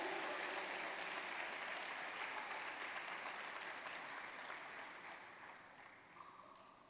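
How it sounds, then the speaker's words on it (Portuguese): A church congregation applauds during a sermon: a dense, steady wash of many hands clapping together, heard faint and distant, holding for several seconds before gradually tapering off. "Você pode dar um aplauso bem forte para Jesus?"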